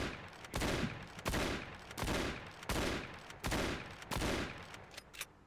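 Winchester shotgun firing a steady series of about seven loud, booming shots roughly every 0.7 seconds, each with a sharp attack and brief decay, with no talking.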